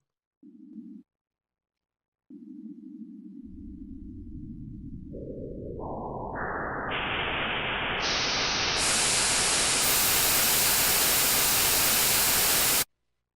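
Synthetic static hiss that starts as brief tones, then steadily widens and brightens in stepped stages into loud full white noise before cutting off abruptly.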